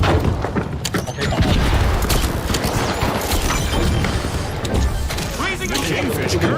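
A frag grenade blast in The Finals booms loudly amid dense, continuous gunfire and game action, with a voice talking over the chaos.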